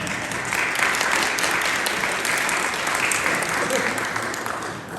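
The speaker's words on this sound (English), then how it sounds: "You can give a clap" Steady, dense applause from an audience at a Vietnam War memorial ceremony, even and continuous throughout without a break.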